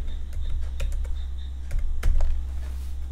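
Code is typed on a computer keyboard in quick irregular bursts of close, crisp key clicks over a low steady hum, with no talking.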